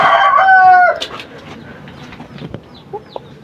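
A rooster crows loudly and close for about a second, its call breaking off into scattered clucks and soft rustling from chickens nearby.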